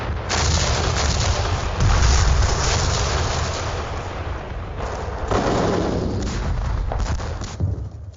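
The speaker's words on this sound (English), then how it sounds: "The evacuation was interrupted by a Soviet artillery bombardment." A WW2 Soviet artillery bombardment comes through as continuous dense rumbling booms and thuds from archival footage, with a harsh, band-limited old-film quality throughout.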